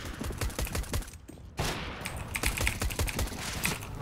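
Gunfire in the video game CS:GO, dense rapid bursts of shots mixed with keyboard clatter, loud and close, with a brief lull in the middle before firing resumes.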